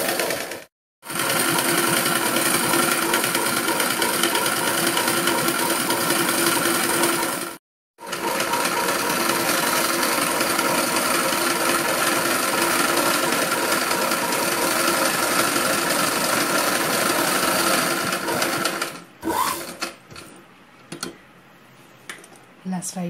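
A sewing machine runs close and loud in long continuous bursts while stitching a fall onto a saree, its rapid ticking needle rhythm broken by two short pauses, ending with a few brief spurts and handling noises.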